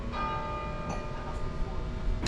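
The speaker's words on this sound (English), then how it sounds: "The bell tower there, giving us a bit of a show." A church bell tower in Oxford rings with a steady, sustained metallic tone heard from a distance, mellow and continuous, under a faint outdoor hum.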